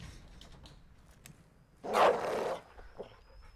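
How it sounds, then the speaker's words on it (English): A dog gives one harsh, growling bark-like burst in Modern Warfare 2, loud and rough for about half a second amid quiet ambient game sounds. "What is that, a dog?"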